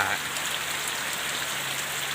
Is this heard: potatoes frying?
no